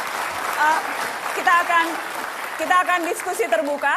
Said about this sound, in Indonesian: Kita beri aplaus untuk Pak Anies.